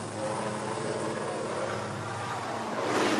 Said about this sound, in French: un hélicoptère emmène les souverains qui ont pris de retard sur l'horaire.